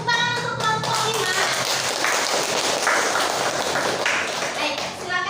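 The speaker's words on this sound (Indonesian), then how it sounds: "Tepuk tangan untuk kelompok 5." A classroom group gives dense, steady applause for a student group after a teaching-practice presentation. The clapping is close and loud, and a brief voice is heard just before it begins.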